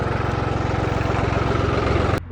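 A New Holland 3630 tractor engine runs slowly at about a thousand revolutions, a steady close, loud low chugging with even rapid firing pulses that cuts off abruptly near the end.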